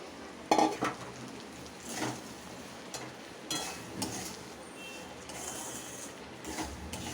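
Fried peanuts, chana dal and semolina being stirred into sautéed vegetables for niramish okhma, with a steady low sizzle and scattered scraping spoon strokes against the pan, no voices.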